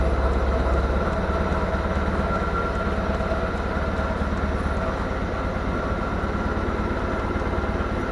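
Diesel forklift engine running after start-up, a loud steady low rumble with a rhythmic throb, continuous and close.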